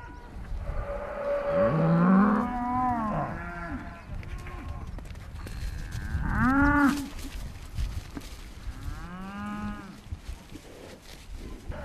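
Cows at a national cattle market give three long, drawn-out moos close by, each rising and falling, with a low murmur of market noise between them.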